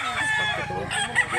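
A rooster crows loud and close at a village chicken market in Mantalungon, Barili, Cebu. One long crow fills the moment, with market murmur underneath.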